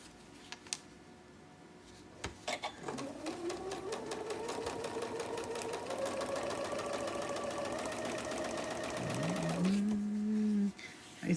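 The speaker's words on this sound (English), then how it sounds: "I'm doing a jelly roll race quilt, stitching together my jelly roll strips." A sewing machine stitches jelly roll strips together for a quilt, its motor whirring in a steady rising drone for several seconds, then slowing and pitching down before stopping briefly near the end.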